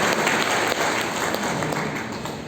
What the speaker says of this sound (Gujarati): એકવાર આ કાઉન્સિલના કાર્યક્રમ માટે એમને તાળીઓથી વધાવી દો.